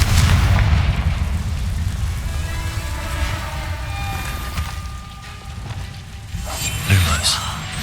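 A Confringo fire spell explodes in Hogwarts Legacy, a loud booming blast with heavy low rumble at the start and another burst near the end, amid ongoing game ambience.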